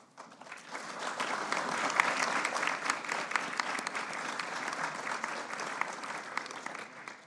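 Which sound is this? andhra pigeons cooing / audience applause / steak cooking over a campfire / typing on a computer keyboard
audience applause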